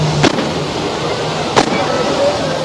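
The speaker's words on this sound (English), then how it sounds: "And there were fireworks." Fireworks go off at a celebration of the storming of the Golden Temple at Amritsar: two sharp, separate bangs about a second and a half apart over a constant rushing outdoor background.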